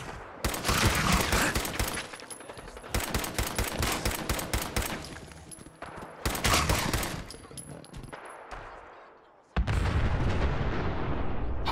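Gunfire in Fallout 4, loud rapid bursts of shots close by, repeated in several volleys with short gaps and a final burst after a brief lull, no talking.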